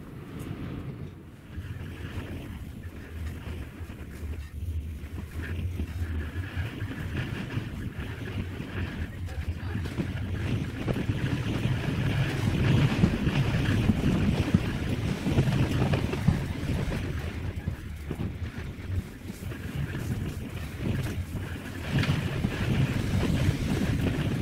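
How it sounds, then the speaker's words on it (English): Strong storm wind roaring steadily around a parked RV, blowing dirt and sand, loud and continuous with heavy buffeting rumble and no clear speech. "Look at the wind, the dirt,"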